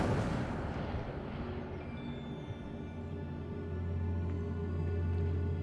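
Incendio fire spell cast in Hogwarts Legacy, a loud roaring whoosh of flames that fills the clip steadily with a low rumbling tone underneath.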